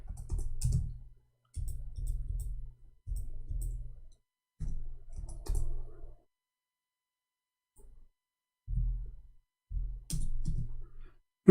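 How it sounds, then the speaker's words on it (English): Bursts of typing on a computer keyboard, with clustered key presses in short runs separated by pauses and a final sharp clack, close and fairly loud with no talking. "This stupid keyboard is not functioning. Come on, I have to hit the letter."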